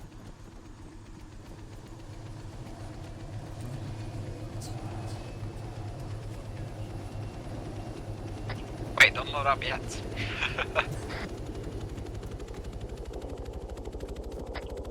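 Arma 3 helicopter engine droning steadily under the whole scene, a low continuous rumble beneath people talking, with a few brief sharper noises midway.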